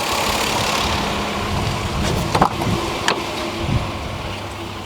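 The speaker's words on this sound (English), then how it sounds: "Car is running." A Lexus IS300 with a newly installed turbo idles steadily, a constant low engine rumble with a few brief clicks and knocks over it, no talk.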